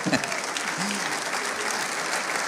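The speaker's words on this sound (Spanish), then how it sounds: "Dele un aplauso al Señor." A congregation at a pastors' retreat breaks into sustained, dense applause, loud and continuous throughout the short moment, with a brief voice heard near the start.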